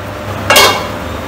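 Metal lid set back onto a cooking pan of raw mango pieces simmering for chutney, a single brief clatter standing out against a quiet kitchen background.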